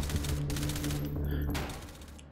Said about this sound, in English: Those flashbangs are really effective now.